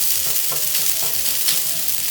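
Garlic butter rice with pepper and salt stir-fried in a hot pan for an Indo-Chinese sizzler, a steady loud sizzle with quick tossing scrapes throughout, no talking.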